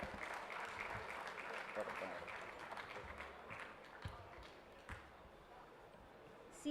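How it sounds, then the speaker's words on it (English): Applause from a conference audience for a chartered accountants' event, fairly faint and distant, a broad wash of clapping that gradually thins toward the end. "Please give a big round of applause for sir."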